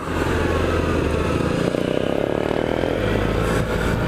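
A Suzuki Burgman 650 motor scooter is ridden on a street trip through Sydney, a loud, continuous engine drone with wind rush, steady throughout and close up, with no talk.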